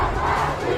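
A large crowd in the streets of Tehran chants anti-government slogans at night, a dense roar of many voices shouting together, loud and sustained over a brief moment.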